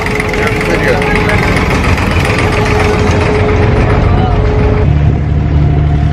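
A small passenger boat's engine drones loudly and steadily throughout a short ride across the water in Dubai. People talk over the constant motor hum, which shifts to a lower tone near the end.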